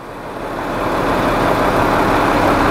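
Truck tractor engine idling steadily and close with a broad, even rumble, rising slightly in level while the clutch is eased out during a trailer parking brake test.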